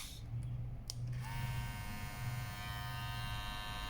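Cordless Clipmaster hair clipper switching on and running with a steady, close electric buzz after a few brief clicks.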